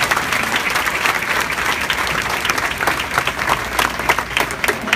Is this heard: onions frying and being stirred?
no